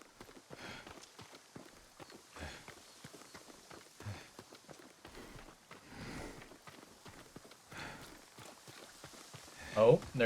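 Horse hooves sound in the video game Ghost of Tsushima, soft, uneven thuds of a walking or trotting horse, faint and fairly close, with quiet game dialogue underneath.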